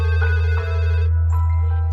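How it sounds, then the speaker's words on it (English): A telephone rings loudly and steadily, a continuous electronic ringtone that fills the whole moment with no voices over it. "I started to get phone calls at work from Wayne"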